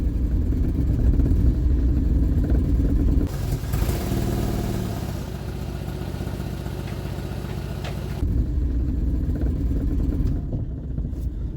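An old classic Vauxhall barn find pulls away under its own power for the first time in over 30 years, its engine idling and revving unevenly with a rough, loose exhaust note, close and steady throughout.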